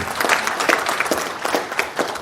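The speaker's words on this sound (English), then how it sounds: "all the speakers today and the keynote, round of applause, right?" Audience at a cybersecurity panel event gives a steady round of applause, dense overlapping claps sustained evenly throughout with no talk over them.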